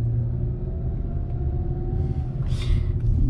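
A car drives past on a street in a Florida residential neighborhood of wooden houses, a loud steady engine rumble and road noise that swells toward the end as it passes close.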